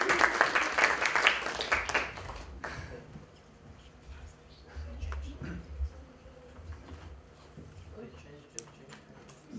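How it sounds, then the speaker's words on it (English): An audience in a lecture hall claps for a technical assistant, a loud burst of applause in the first few seconds that fades into quieter room noise and scattered sounds. "applause for Bogdan"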